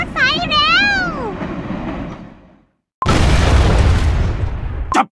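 A dream-galaxy train in Cookie Run Kingdom rumbles loudly for a few seconds, its steady roar joined at the start by a sweeping whistle-like tone. After a short silence a second burst of heavy rushing noise follows.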